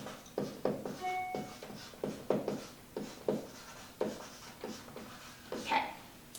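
Marker writing out chemical element symbols on a board, a steady run of short squeaky strokes and taps, close and fairly quiet, without talk.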